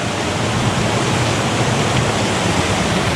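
A swollen, raging creek pours over a waterfall in the Upper Peninsula woods, a loud continuous broadband roar of rushing water with no pauses and no voices.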